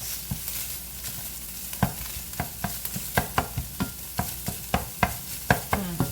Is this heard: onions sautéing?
yes